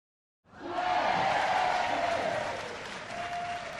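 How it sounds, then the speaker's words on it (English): A class audience applauding, a steady wash of claps starting after a short silence and holding at moderate level with a faint tonal hum underneath. "Please, hold your applause and let me tell my story."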